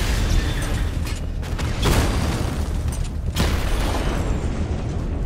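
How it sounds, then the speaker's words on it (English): A controlled bomb explosion in Batman: Arkham Knight produces loud, rumbling blasts with two sharp booming surges inside a continuous wash of heavy noise. "I can use the power winch to trigger a controlled explosion."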